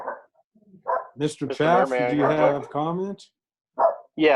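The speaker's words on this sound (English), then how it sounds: "Pardon my dog." A dog barks at home during a remote city council meeting, a few short yaps rising over and between people talking.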